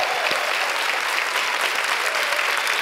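Brief burst of dense studio audience applause on a late-night TV show, loud and steady from start to finish.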